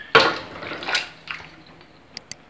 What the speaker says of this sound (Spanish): aquí vamos a agregar nuestro chancho ya condimentado